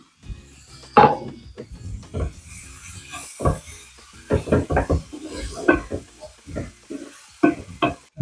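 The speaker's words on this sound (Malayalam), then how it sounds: "ഈ സവോള എളുപ്പം നമുക്ക് വഴറ്റിട്ട്" Onions stir and sizzle in a pan with salt and turmeric, a spoon scraping and rasping in uneven strokes over a soft, steady frying hiss.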